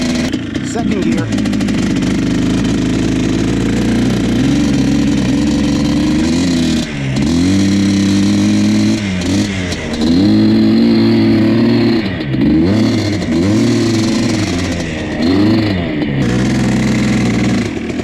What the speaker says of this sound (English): First ride on it. This exhaust is loud as anything.